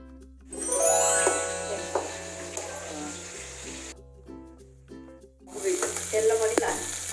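Fish fries in hot mustard oil with a loud, steady sizzle that fades midway and surges back, under background music.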